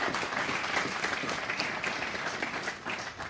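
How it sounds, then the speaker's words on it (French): Church congregation applauding its worship band at a French-language Sunday service, a dense, even wash of clapping held at a moderate, slightly distant level. "Merci d'applaudir pour eux."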